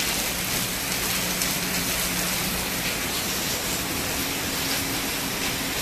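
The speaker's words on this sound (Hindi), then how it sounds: "बारिश तो अच्छी हो रही है" Steady rain pours down, a dense even hiss of drops on surfaces, constant and close throughout.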